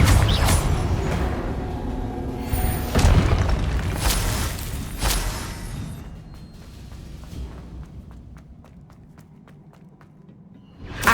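Spell blasts in Hogwarts Legacy go off as a run of loud booming bursts amid a busy fight, then fade into quieter scattered clicks and taps, with one more thump at the very end.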